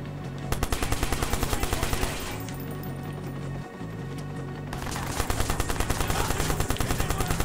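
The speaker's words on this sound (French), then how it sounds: "mais en fait je tire dans le vide là" Rapid automatic gunfire in the video game Watch Dogs, loud sustained bursts of evenly spaced shots that pause briefly mid-stretch and then resume just as fast.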